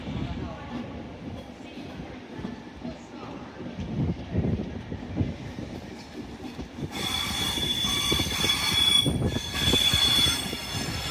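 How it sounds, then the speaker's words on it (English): A train pulls out of Doncaster station and slowly gathers speed on the East Coast Main Line, with rumbling, rising engine noise and a loud high wheel squeal joining partway through, heard close by. "I forgot how slow these are compared to the Zoomers getting up to speed"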